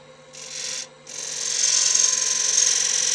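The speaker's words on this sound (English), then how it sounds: "I'm just going to grab a little detail gouge" A small detail gouge cuts wood on a lathe while a Halloween cauldron is being turned. A brief hissing scrape is followed by a pause, then a longer, steadily louder shaving rasp over the low hum of the spinning lathe.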